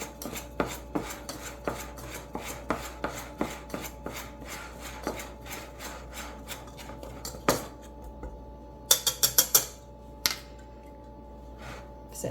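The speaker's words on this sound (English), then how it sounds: "Let me whisk that just a little." A whisk stirs spices and baking soda into flour in a bowl for molasses cookies, producing steady rhythmic taps and scrapes. Near the end comes a quick cluster of sharper clinks, all fairly soft with no talking.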